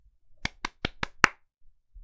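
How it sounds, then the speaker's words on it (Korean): A few slow hand claps, five sharp evenly spaced claps, close and fairly quiet, with no talking over them. "근데 박수 쳐줘야지."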